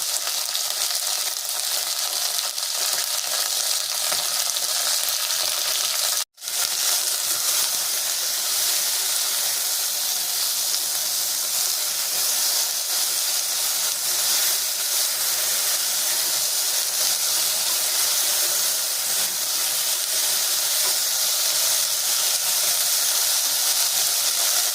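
Okra frying in a pan with tomatoes and green chillies, giving a steady, loud sizzling hiss that runs throughout with one brief drop-out, and no voices.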